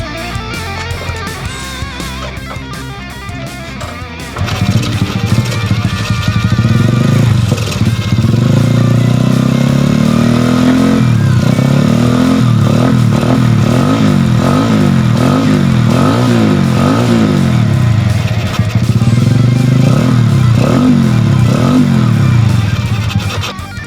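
Motorcycle engine being test-run after a loose cam chain repair, a loud, steady close-up idle with rhythmic revving surges and a mechanical clatter running through it for over twenty seconds.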